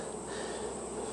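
Honeybees humming steadily inside a hive box holding drawn comb frames, a dense continuous buzz heard up close with no voices.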